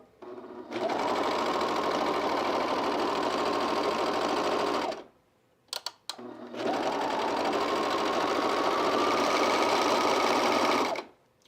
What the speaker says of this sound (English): Before I start sewing.